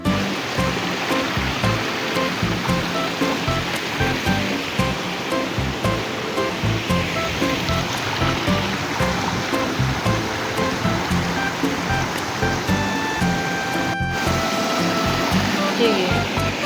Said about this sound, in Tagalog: Doon na yun, yung falls.